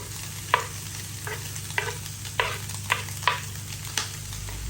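Sisig and onion sizzle in a pan, a constant close frying hiss broken by several sharp scraping stirs of a utensil at irregular intervals, with no voices.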